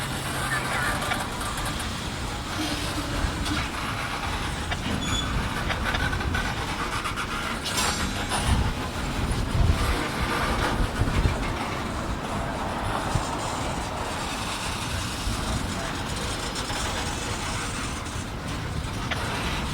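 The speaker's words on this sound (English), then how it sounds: "Oh, this train's definitely stopping." Long freight train near Pigs on a BNSF and CPKC line, slowing toward a stop with a continuous heavy rolling rumble and metallic squeals, while someone talks over it.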